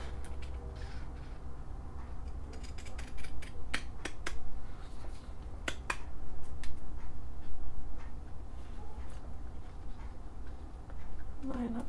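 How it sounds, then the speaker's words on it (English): Paper being cut with good-quality scalloped-edge scissors while edging a coil junk journal: soft, close snips and crunches come in scattered bursts over a low steady background hum. "now I'm gonna get my scalloped edge scissors"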